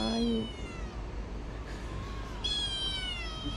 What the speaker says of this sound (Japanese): 猫。 聞こえるけどいない。